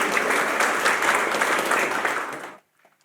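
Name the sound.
audience applause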